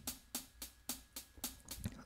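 Simple hi-hat MIDI pattern programmed in Logic Pro, ticking in a steady even pulse of sharp bright hits about every third of a second, heard on its own without talk.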